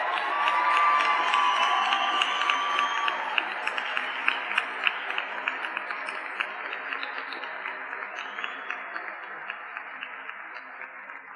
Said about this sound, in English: Everyone, please join me one last time in applauding your graduates.